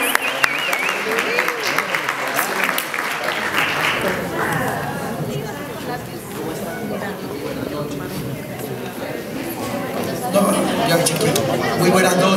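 An audience at a community recognition event for Ecuadorians in Los Angeles gives sustained applause that fills the whole stretch, loud and dense, with crowd chatter mixed in and a brief swell near the end.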